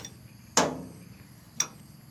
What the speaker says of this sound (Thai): เราจะตอกข้างในออกไปข้างนอกนะครับ